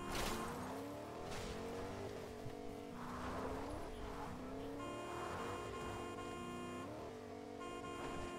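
Car engine revving and shifting pitch while driving in Fortnite, with squealing tires and a steady motor drone throughout, joined by a bright horn-like tone near the end.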